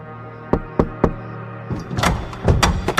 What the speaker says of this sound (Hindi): तभी उसके दरवाजे पर एक हल्की सी दस्तक हुई।